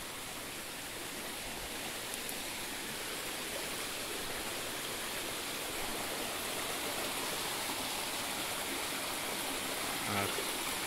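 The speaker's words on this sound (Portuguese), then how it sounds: "A água está descendo ali." A small creek flows steadily over its bed, a continuous, even rushing and trickling wash of water that stays close and constant throughout, with no voices.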